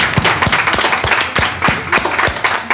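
A small group claps for Juvenal during a French broadcast, with loud, close, distinct hand claps in an uneven rhythm. Individual sharp smacks stand out over a lighter patter, and no one speaks.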